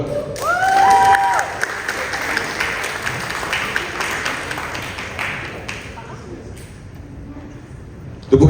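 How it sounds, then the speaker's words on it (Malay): A crowd at a Malaysian drum and percussion festival breaks into loud applause for guests on stage, dense clapping that swells early then gradually thins and fades, with a brief voice near the start. "Tepukan gemuruh untuk semua tetamu yang hadir."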